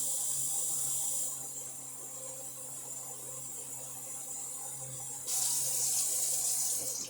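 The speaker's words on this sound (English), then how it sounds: "let's add some water. And it could be the water from the sink" Cold water runs from a kitchen sink tap in a steady, close hiss, briefly quieting partway through before flowing strongly again.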